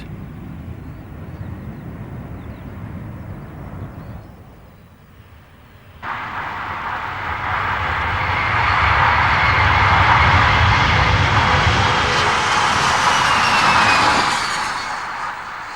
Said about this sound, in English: the test pilot deliberately takes off at too steep an angle, putting the tail of the jumbo in contact with the runway